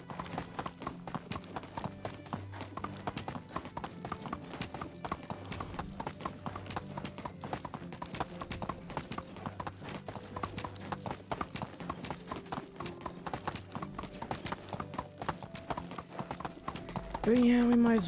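Hooves of a donkey clip-clop in the Medieval Dynasty village-building game, a steady rapid rhythm of close hoof strikes running throughout, with a voice heard over it and a louder tonal sound at the very end.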